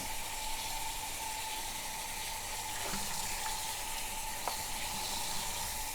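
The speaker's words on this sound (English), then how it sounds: "I'm just going to let the water run" Tap water runs steadily into a sink while vintage linens, including a tatted runner, are rinsed and wrung out, making a continuous even hiss with a few faint clicks and knocks, and no talking.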